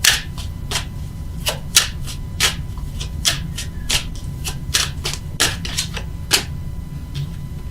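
Tarot cards being shuffled and handled during a love tarot reading, giving a run of crisp, irregular riffling snaps and flicks close by, over a low steady background hum, with no talking.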